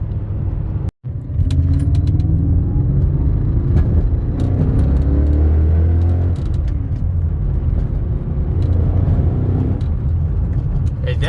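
A BMW E39 M5 with Dinan S1 tuning and 340,000 miles drives at steady speed, loud engine and road rumble throughout with a rough low scraping from the tires rubbing in the rear, after a brief dropout near the start.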